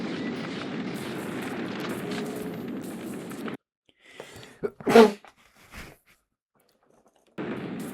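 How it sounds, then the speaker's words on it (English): Steady background noise cuts out, and in the near silence a single loud sneeze bursts out before the background noise returns, in Alien Trilogy on PS1. "There's the sneeze."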